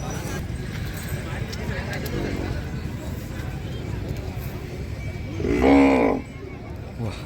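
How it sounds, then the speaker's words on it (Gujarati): Kankrej cattle at the Hodka Banni livestock fair, with one loud moo rising near the end above a steady outdoor hubbub of people talking and animal movement. "સારામાં સારી કાંકરેજ ગાય."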